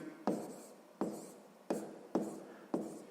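A sixth-grade math exercise on percentages is being written down, heard as five sharp, evenly spaced stroke sounds, each a crisp attack fading into a short scratchy tail, close and quiet.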